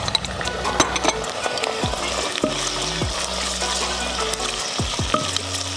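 Chicken liver and gizzards dropped into a pan of softened onion, sizzling and frying steadily with repeated clinks and scrapes of a spoon stirring against the pan, no voices.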